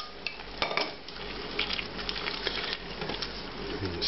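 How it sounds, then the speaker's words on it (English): Cooked lentils are stirred into curry masala in a pan: a spoon scrapes and clinks against the metal over a low simmering sizzle, with a few louder knocks. "And stir this."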